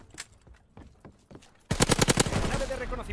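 Submachine gun in Call of Duty WW2: a few sparse, separate shots give way to a loud, sustained burst of rapid automatic fire with sharp repeated cracks, close up and without talk.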